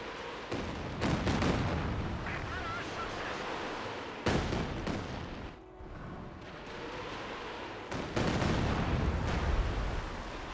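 Artillery barrage with airburst rounds in the strategy game Company of Heroes 2: loud, dense rumbling blasts and booms that run almost continuously, with sharper impacts around a brief lull.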